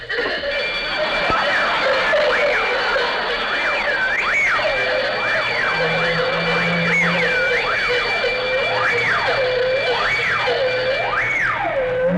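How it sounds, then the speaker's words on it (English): A wavering electronic alarm sweeps up and down repeatedly and loudly for the whole stretch, steady and continuous over a low background hum, in an old-time radio drama burglar alarm scene. "I need a louder burglar alarm"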